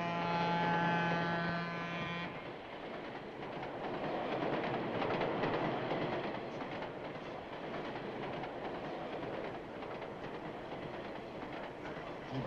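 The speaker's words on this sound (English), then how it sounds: "when it goes fast and it shakes back and forth, I'm really very sick from the train" A train in motion rocks and clatters with a dense, continuous rumble and rhythmic clacking of wheels on track, steady and close, following a short sustained tone at the start, in a 1955 comedy film.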